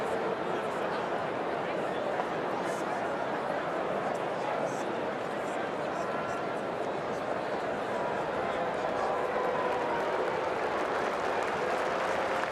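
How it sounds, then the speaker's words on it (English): A stadium crowd at an Indiana at Nebraska college football game applauds in a steady, dense roar of clapping and cheering that holds for the whole stretch, with no break or fade. "And now the crowd applauds as Thomas Allen walks slowly off the field"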